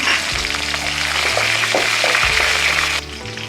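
Half a spoon of mustard seeds, peanuts and green chillies fry loudly in hot oil for upma, a dense crackling sizzle with stirring clatter that drops away sharply near the end.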